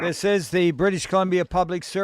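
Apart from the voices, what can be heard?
No everyday noise stands out behind the speech.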